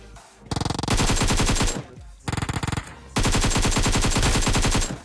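Bursts of M249 machine gun fire in the BGMI mobile game, loud, close and rapid, in three sustained strings of automatic shots separated by brief pauses.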